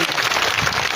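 Loud, steady applause from a crowd at a farmers' protest gathering, welcoming Kajalben; dense continuous clapping with no gaps across the whole moment.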